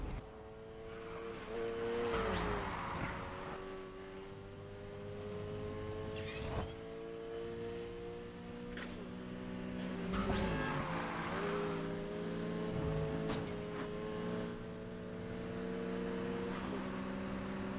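Race car engine in the Need for Speed Heat video game, a sustained motor drone that rises and falls through repeated rev swells, loud and continuous across the stretch with no talk.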